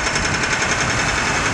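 A jackhammer at road repair work on a city street in Kharkiv, a loud, steady rapid hammering that runs unbroken throughout at close range.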